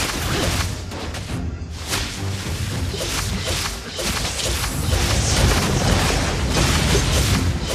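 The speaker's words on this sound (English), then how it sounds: "you destroyed a turret!" A turret blows up in the Mobile Legends mobile game, a dense booming explosion with whooshing effects and layered game sounds that stay loud and continuous throughout, briefly cut by a short gap.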